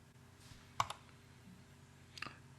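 A computer mouse clicks a search button, giving two short clusters of sharp, quiet clicks about a second and a half apart against a faint background hum.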